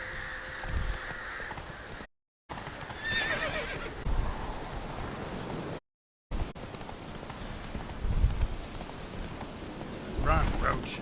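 Roach the horse galloping and neighing in The Witcher 3, with hoof clatter, whinnies and crow caws in a game soundscape, broken by two short silent gaps, with someone talking over it.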